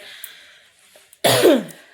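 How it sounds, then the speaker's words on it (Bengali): A single loud, harsh cough bursts out after a quiet stretch with faint background hum. "কাশিটা বড্ড জ্বালাচ্ছে"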